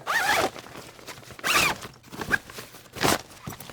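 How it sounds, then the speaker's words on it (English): Zipper being pulled along a Black Hole wheeled duffel bag, three separate loud rasping zips about a second and a half apart, close up with faint handling noises between them. "I'm going to zip things back up."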